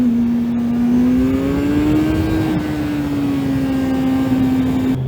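Kawasaki Z1000SX motorcycle engine held in first gear, a loud steady low drone that rises slightly in pitch and settles again, with no talk.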